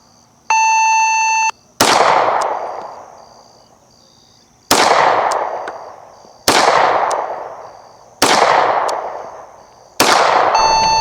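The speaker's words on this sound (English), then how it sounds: "there you see me break the last shot just as the beeper went off" Loud electronic shot timer beeps at a service pistol match, a short steady tone at the start and another at the end, with several sharp close pistol shots between them, each leaving a decaying ring.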